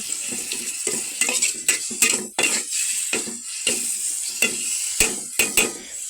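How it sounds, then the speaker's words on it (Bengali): Spice paste for a pumpkin and prawn curry frying in a pan, with soft sizzling and repeated scrapes and clinks of a spoon stirring against the pot, close and fairly loud, no talking. "এখন আমি মিষ্টি কুমড়ার জন্য পেস্টটা ভেজে নেব"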